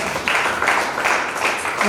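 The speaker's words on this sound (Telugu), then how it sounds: "గట్టిగా చప్పట్లు కొట్టి" A church congregation at a fasting prayer service claps together in a steady, rhythmic beat. The clapping is fairly loud, and a voice can be heard faintly underneath.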